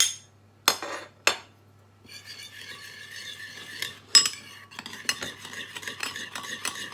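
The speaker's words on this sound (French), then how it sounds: "Je vais mélanger la poudre d'amande." Almond flour batter for gluten-free, sugar-free keto almond tuiles is stirred in a bowl: a couple of sharp clinks, then steady close scraping and swishing strokes that continue without talk.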